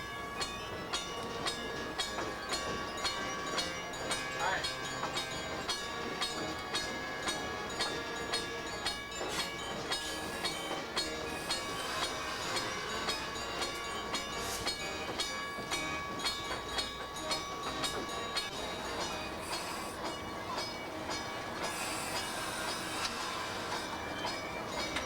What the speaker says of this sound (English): we got to ride up front on the Great Circus Parade train